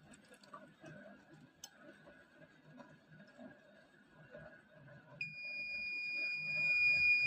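The buzzer of a homemade NE555 water-level alarm circuit, set off by water in a glass, starts abruptly partway through. It gives a continuous shrill electronic tone that stays loud and steady to the end, after quiet ticking and handling noises.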